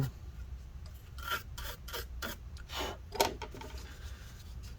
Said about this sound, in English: Let's kind of brush this chunk off as well.